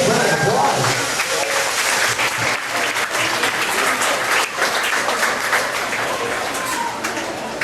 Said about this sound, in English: But let's give our volunteers one big round of applause.